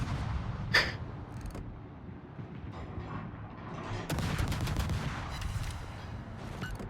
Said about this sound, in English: I wanted you guys to at least see what it looks like when you launch 24 torps